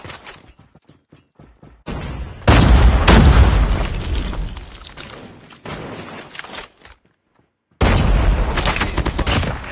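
A frag grenade blast and heavy gunfire in a video game, with loud booming explosions and rapid bursts of shots that rise and fall over several seconds, broken by short silent gaps.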